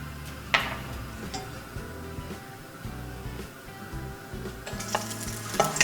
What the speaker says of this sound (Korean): 대파를 볶아 향을 내다가